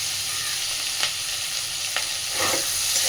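Small shrimp frying with onion in a pan for an aloo-begun shrimp chorchori, a soft steady sizzle under a few light clinks and a stirring scrape near the end, no voices.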